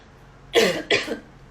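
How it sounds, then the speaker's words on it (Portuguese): Two quick coughs in a row, close and fairly loud, against a quiet background. "Desculpa, agora vem uma tosse."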